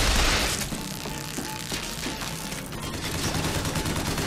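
Volley gun firing in the video game Bioshock Infinite, a dense run of loud, overlapping blasts and crashes packed into a continuous barrage with no clear gaps, up close.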